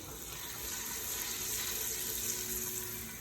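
Whole cinnamon, cardamom pods and cloves fry in hot oil in a pan, a steady, soft sizzling hiss heard close and alone.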